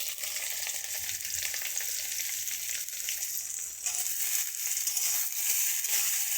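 Bitter gourd, radish and potato pieces fry with onion in hot oil, giving a steady, loud sizzle with light stirring throughout, no voices present.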